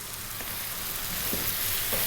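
Spices and tomatoes for a rajma kidney bean curry fry in a pan over above-medium heat, giving a steady, close sizzle with faint stirring scrapes and no voices.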